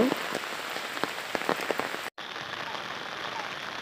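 Heavy rain pours down in a dense, steady patter on surfaces all around, loud and unbroken apart from a momentary dropout.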